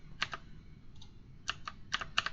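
Quick bursts of clacking keys on a PC computer keyboard, a few short clusters of taps close by with brief pauses between them, and no voices.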